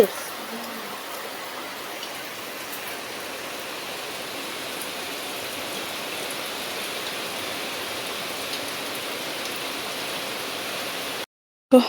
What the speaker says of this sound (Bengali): কি জোরে বৃষ্টি